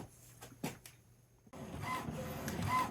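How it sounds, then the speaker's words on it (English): An inkjet printer running a print job at best quality, with a steady mechanical whir and motor hum that builds after a short quieter stretch, alongside a few brief clicks. "So I don't know if you can hear the printer"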